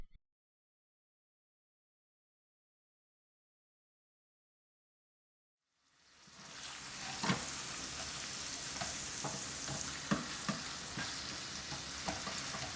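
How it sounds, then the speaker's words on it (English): Ground beef browning in a skillet with olive oil over medium-high heat, an even sizzle that starts after several seconds of silence, broken by occasional scraping knocks as the meat is chopped and turned. "Add the olive oil and beef to a skillet on medium-high heat. Season, chop, and turn the beef until it's completely browned."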